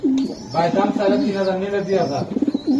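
Racer and Budapest pigeons at a bird market coo loudly and close by in low, warbling phrases, with voices talking nearby.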